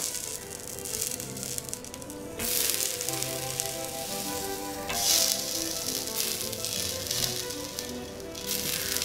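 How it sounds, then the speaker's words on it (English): Potato wedges sizzle steadily in oiled cast iron, a dense bright crackle that swells in bursts as more pieces go into the pan, close and loud with no talking. "This is the sizzle."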